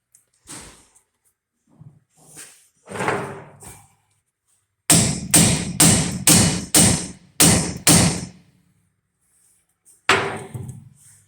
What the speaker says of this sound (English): with one whack with the hammer, yep, there it went.